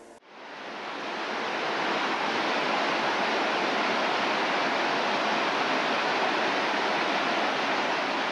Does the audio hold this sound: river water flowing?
yes